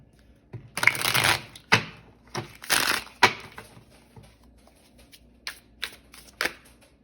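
A deck of tarot cards is shuffled by hand in a quiet room, giving several bursts of riffling and flicking, with sharp card snaps between quieter pauses, close and alone.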